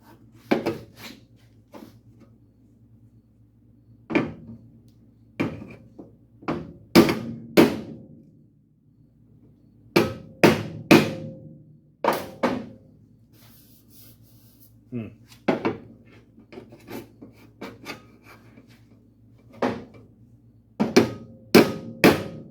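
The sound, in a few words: hammer striking crumpled cowl panel of 1951 Chevy truck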